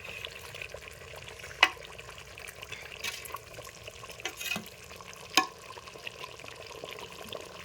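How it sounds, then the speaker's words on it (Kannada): A spicy curry masala for a dried eel-fish curry bubbles and simmers in a pan, giving a faint, steady burble with a few soft clinks and pops scattered throughout. "ನೋಡ್ರಿ ಮಸ್ತ್ನೇ ಕುದಿಕತ್ತದ್ರಿ"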